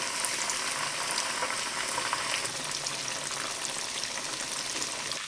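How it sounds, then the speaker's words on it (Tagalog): Pork chops fry in hot oil at medium heat, a steady, even sizzle with fine crackling and bubbling, moderately quiet and continuous with no voices. "Magpainit na tayo ng mantika. Then, pirituhin natin to into medium heat hanggang sa mag-golden brown nito."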